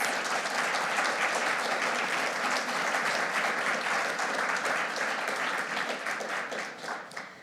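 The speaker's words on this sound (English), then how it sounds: "We can give them a round of applause." A large audience at an annual business meeting of a bibliographical society applauds its meeting sponsors, with dense, steady clapping that holds from start to finish before thinning slightly at the very end.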